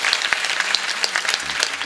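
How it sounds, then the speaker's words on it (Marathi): A large crowd of thousands at an open devotional kirtan gathering claps loudly and continuously in dense, sustained applause, with no voices standing out. "एकदा सगळ्या अन्नदात्यांसाठी जोरदार टाळी वाजवा"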